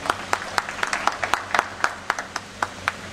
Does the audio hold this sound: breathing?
no